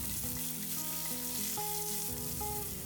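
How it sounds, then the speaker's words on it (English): Urad and chana dal, dried red chili, crushed peanuts, nuts and sliced onions hiss and sizzle in hot oil in a pan, a steady close crackle with occasional stirring clinks. "add some urad dal and chana dal, dried red chili, crushed peanuts, nuts and sliced onions and saute for 1 minute."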